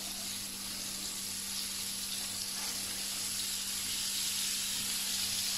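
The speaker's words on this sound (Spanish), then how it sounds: "Aceite al fuego y a freírlas" Pig trotters frying in hot oil in a pan for a Spanish braised pork trotters dish, giving a steady, dense sizzle that stays constant and fairly close throughout, with no talking.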